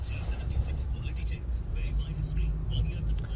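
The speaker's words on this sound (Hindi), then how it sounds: "यहाँ से जैम है, ट्रैफिक जैम है, बहुत लंबा जैम है।" Road traffic crawling slowly in a long jam near Ambala on a highway out of Punjab, a steady low engine rumble with cars and buses idling and creeping forward, continuous and close throughout.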